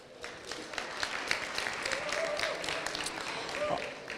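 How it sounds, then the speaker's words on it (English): Audience applause at a DemoJam session of a developer conference, a short burst of dense clapping from a crowd, moderately distant and steady throughout. "Round of applause for Jean-Michel"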